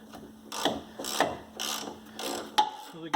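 A ratchet loosens a 15mm nut on the front axle of a Jeep Cherokee XJ, with about six bursts of rasping clicks in an uneven stroke rhythm, close and clear, then a couple of sharper metallic knocks at the end.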